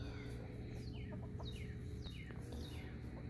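Free-ranging backyard chickens cluck and chirp in short, repeated calls at a moderate distance, a soft, steady farmyard murmur with no talking.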